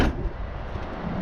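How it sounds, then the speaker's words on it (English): A single solid thud of a 1966 Ford Mustang restomod's door shutting near the start, followed by a low steady rumble of its idling 302 V8 engine. "Close the door."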